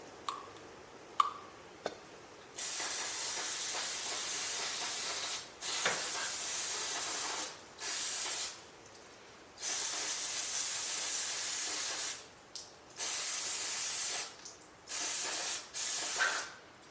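Repeated bursts of aerosol brake cleaner sprayed onto the clogged carburetor of an old Ferris 61-inch riding mower, several long hissing blasts of a few seconds each separated by short pauses and small clicks, close and fairly loud with no talking.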